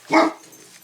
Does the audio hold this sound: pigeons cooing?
no